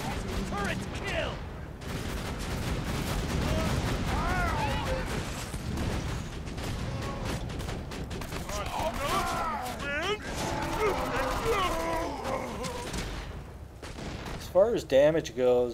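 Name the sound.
turret gunfire in the video game Borderlands 2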